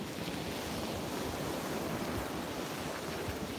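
Ocean waves wash onto a beach at sunrise with wind buffeting the microphone, a steady loud roar of surf and gusts with no pauses or voices.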